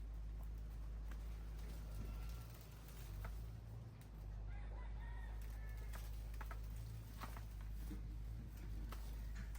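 Chickens cluck and a rooster crows in a noisy outdoor setting, with steady low background hum throughout.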